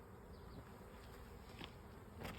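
Honeybees buzz around a backyard garden hive in spring, a dense steady drone of many insects at low level, with occasional nearer individual bees passing close.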